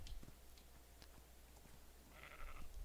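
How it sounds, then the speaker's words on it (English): A sheep bleating in ARK: Survival Evolved, one short nasal bleat near the end above a faint, steady background of game ambience. "Yes, it sounds just like a Minecraft sheep."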